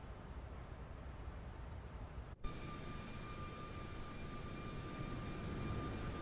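A steady airliner engine roar comes from a Boeing 737 MAX 8 in the iFly flight simulator, with one brief dropout and click partway through. There is no talk.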